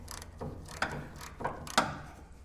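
A ratchet wrench clicks as it snugs the drag link end fitting on an FJ40 mini truck, using a big straight-blade drag link socket. It gives four or five separate, fairly sharp clicks at an uneven pace, close by, with no talking.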